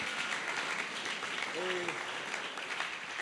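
A church congregation applauds in a steady, full wash of clapping that holds from start to finish, while a voice speaks briefly over it.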